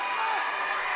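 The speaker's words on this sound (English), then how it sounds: "a nice round of applause from South Allegheny" Crowd noise from the South Allegheny side at a high school boys' basketball playoff game, a steady, loud wash of applause and cheering filling the whole moment.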